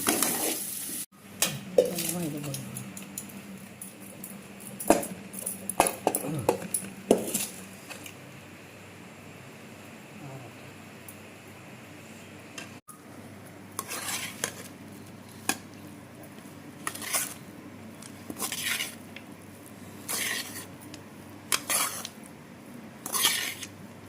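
Cooked rice being stirred into fried onion masala in a pan: repeated scraping and clanking of a spoon on metal with a soft sizzle underneath, close and steady, in uneven strokes throughout.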